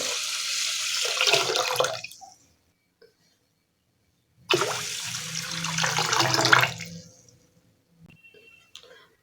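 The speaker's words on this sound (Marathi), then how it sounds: "आता याच्यामध्ये भरपूर पाणी घालायचं" Water poured from a vessel onto washed rice and dal in a pot for soaking, two splashing pours of a couple of seconds each separated by silence, close and clear.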